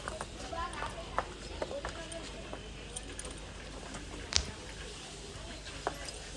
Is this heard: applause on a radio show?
no